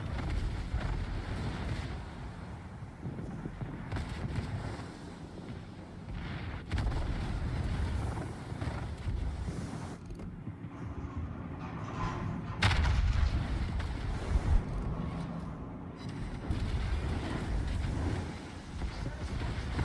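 Secondary battery guns on a warship in the naval combat game World of Warships fire at an enemy ship, producing repeated booming blasts over a constant roar of wind and sea, with a voice speaking at times.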